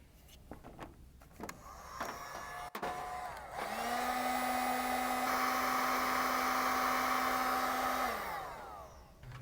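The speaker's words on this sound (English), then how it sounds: "Use a heat gun to shrink the protective coating that's found on the terminals" A heat gun shrinks the protective coating on red and black wire terminals during a Holley Sniper EFI install, a steady whining blower hum that starts after a few clicks and runs about five seconds before winding down.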